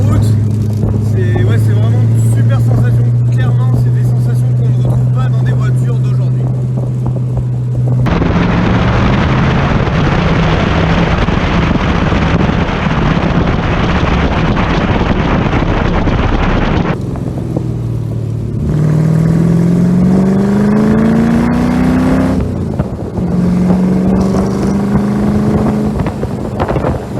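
Ford AC Cobra engine revving and accelerating hard, a loud, rising low growl with pitch sweeping up through gear changes, mixed with heavy wind noise from driving.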